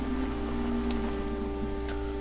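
Steady rain falls on a surface in a continuous, even hiss with a constant low hum underneath and no pauses.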